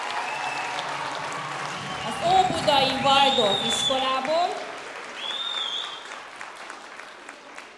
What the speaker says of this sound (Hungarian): egy nagy tapsot kérnénk